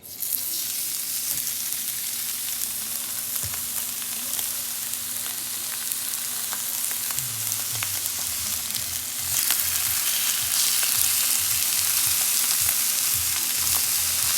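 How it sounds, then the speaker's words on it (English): Ribeye steaks, cooked sous vide, are pan seared on a grill, giving a loud, steady, continuous sizzle that runs the whole time and swells slightly near the end. "We're gonna put a nice little sear on these babies."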